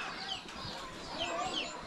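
Chickens clucking nearby, a soft continuous chorus of fowl calls over faint background noise.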